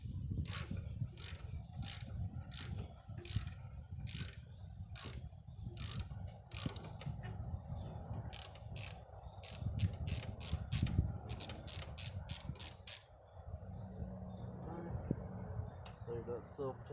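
Rapid ratchet clicks come in bursts as a wrench backs a self-tapping bolt out of a Murray rear engine rider mower, the pawl rattling in quick even strokes under a steady low background hum and someone talking.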